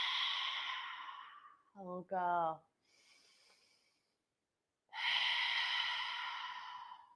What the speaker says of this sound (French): Prenez une profonde respiration par le nez. Et relâchez tout ce qui vous encombre par la bouche.